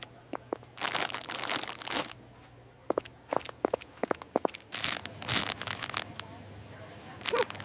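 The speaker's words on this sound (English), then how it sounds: "These salty chip bags are loud." Salty chip bags being handled, crinkling in sharp irregular bursts of crackle and rustle with quiet gaps between them, close and fairly loud.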